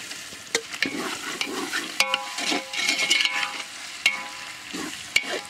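Tomatoes sizzle in a pot with ginger garlic paste for a goat curry, stirred steadily with sharp scraping clicks against the pan over a continuous close frying hiss; no talking.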